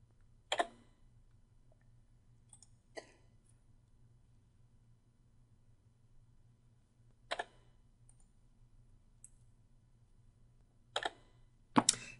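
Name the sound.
computer mouse clicking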